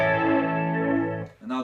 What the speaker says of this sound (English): So I'll first play you just so you can hear the flanger.